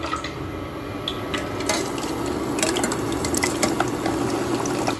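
Potato fries bubbling in a pan of hot oil for a Poutine recipe, a steady dense crackle with occasional sharper pops and light clinks of utensils, close and continuous with no talking.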